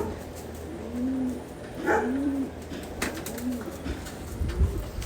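Pigeons coo in a repeated rolling rhythm at close range while being fed in the late afternoon, with a few soft thumps and rustles and a faint dog bark in the background.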